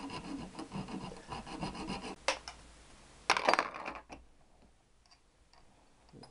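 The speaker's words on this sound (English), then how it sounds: "I'm going to saw it off and leave about one thread out the nut." A hacksaw cuts through excess threaded bolt end beyond the nut during a Triumph T120R bottom end rebuild. The strokes are close, rhythmic and rasping, then stop with a few clanks and quieter handling.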